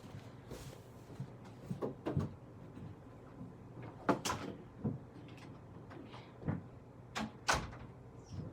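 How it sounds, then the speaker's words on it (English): Several sharp knocks and clacks at a café door as it is being closed, scattered irregularly and moderately near, with quiet gaps between the bangs. "Let me close the door."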